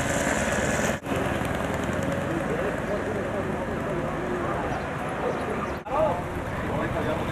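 A Harley motorcycle engine revs, droning steadily and loudly up close during a stunt ride in Cuba, with brief dips where the throttle drops, and voices talking over it.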